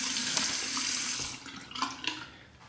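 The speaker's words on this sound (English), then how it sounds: "let's soak that under the warm water, saturate those tips" A tap runs warm water into a sink to soak a shaving brush, a steady hissing stream that cuts off partway, leaving a few softer splashes and drips.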